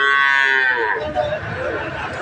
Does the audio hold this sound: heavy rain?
no